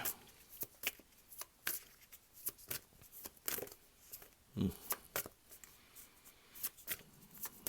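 Tarot cards shuffled and drawn close up, a quick series of soft riffling flicks and card slaps in an uneven rhythm, faint and intimate.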